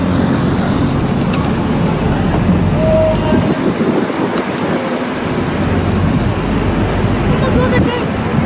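Steady, loud rumble of a city tour bus riding through Kuala Lumpur traffic, with continuous road and engine noise filling the whole stretch and a few faint higher clinks above it.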